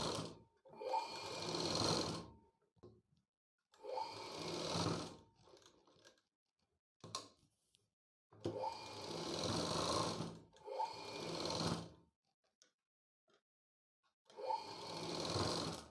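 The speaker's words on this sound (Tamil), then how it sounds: "இந்த இடத்துலேருந்து ஆரம்பித்து அப்படியே 1/2 இன்ச்சுக்கு வந்து தையல் போட்டுகிட்டே வந்துட்டு இந்த இடத்துல" A sewing machine stitches a half-inch seam on a blouse back piece. It runs in steady close bursts of a second or two, separated by quiet pauses.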